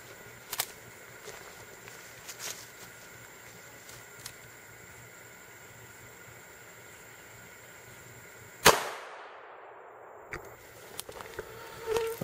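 A single sharp crack of a 357 Magnum firing a 158 grain flat nose copper bullet at a bulletproof vest, one loud report standing out from quiet outdoor ambience, with a few faint knocks afterward.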